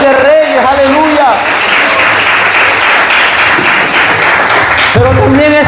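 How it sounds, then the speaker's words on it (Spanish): Loud, sustained applause from a church congregation filling several seconds, with a preacher's voice speaking over the clapping at the start and end. "¿Cuánto le pueden dar un fuerte aplauso al Rey de Reyes?"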